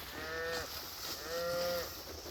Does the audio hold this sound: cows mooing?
yes